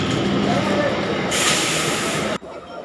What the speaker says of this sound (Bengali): এই দেখো ট্রেনটা ঢুকছে